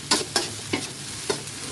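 Pork fried rice with brown rice and duck egg is stir-fried in a hot wok. About four sharp spatula scrapes and tosses cut through a steady sizzle.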